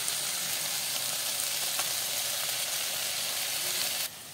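Ground coriander, green chili and ginger paste frying with onions and peas in a pan, giving a steady, loud, dense sizzle that drops off abruptly near the end.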